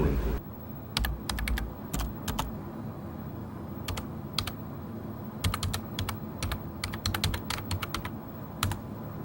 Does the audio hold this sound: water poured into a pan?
no